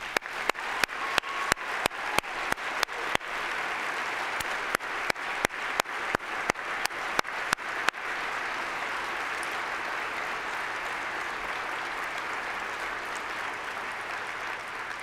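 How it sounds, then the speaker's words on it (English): A standing audience at a public health foundation's opening session bursts into sustained applause, with a few sharp rhythmic claps standing out early before the sound settles into a dense, steady roar of clapping from many hands. "let's give ourselves and our colleagues a rousing round of applause"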